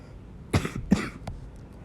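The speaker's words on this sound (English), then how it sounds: "Sorry for the cough." Someone with a cold coughs twice in quick succession, then gives a softer third cough, close to the microphone.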